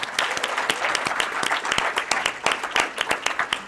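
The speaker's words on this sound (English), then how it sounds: "Let's give a round of applause for Jack and his team for putting this event together." An event audience gives a round of applause at a healthcare networking gathering in Miami, the close, crisp claps rapid and uneven throughout the few seconds.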